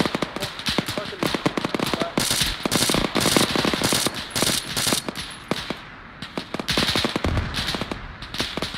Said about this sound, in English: Well, open fire.